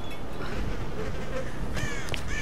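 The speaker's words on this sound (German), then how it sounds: "Ich höre Fliegen summen." Flies buzz steadily in the Tomb Raider (2013) video game, a continuous insect drone heard at close range through the whole stretch, with a few brief higher chirps toward the end and no talking.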